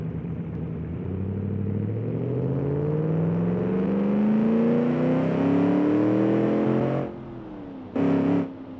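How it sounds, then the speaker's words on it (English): A car engine in the driving game BeamNG revs up smoothly and loudly with a rising pitch for several seconds, drops off briefly, then gives a short second burst. "the engine sounds good"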